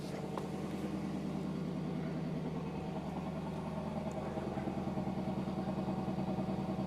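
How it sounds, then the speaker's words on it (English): A 2026 Lexus LC500 Convertible engine idles steadily with a low, smooth, mellow burble, heard from a short distance outside, constant and unchanging. "let's listen to the idle from outside the car."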